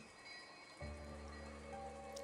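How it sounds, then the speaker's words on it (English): Rain falls in the visual novel game Umineko, a soft steady patter that swells slightly louder partway through, quiet and continuous with no voices. "you couldn't ignore the sound of the rain sneaking into the dining hall"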